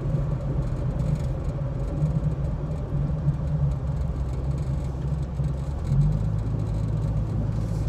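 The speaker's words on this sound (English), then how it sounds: "The car, or Cyril, if you prefer, is running perfectly well." Inside a car cruising smoothly on the road, a steady low engine hum and tyre rumble run evenly throughout, with no speech.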